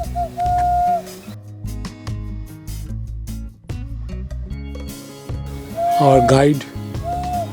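A tour guide in a forest on the Mayur Hills of Ayodhya Hills, Purulia, imitates bird calls with short whistled hoots, one near the start and a wavering burst later. Talk is heard around them.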